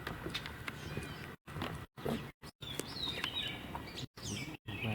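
A mewing, chirpy gray catbird call repeats in short bursts among other birdsong, fairly close and clear against outdoor ambience.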